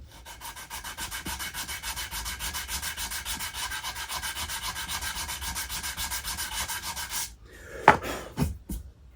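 Steady, rhythmic back-and-forth sanding on the wooden body of a new guitar, close and continuous for several seconds, then a few scattered rubs and knocks as the strokes stop.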